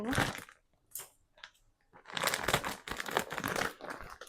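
A coffee sachet is crinkled and torn open close up, with bursts of dry crackling plastic rustle separated by brief pauses, then a longer stretch of continuous crinkling.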